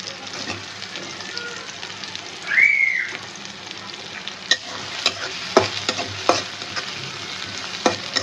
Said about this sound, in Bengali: ভাজা ভাজা করে দেবো।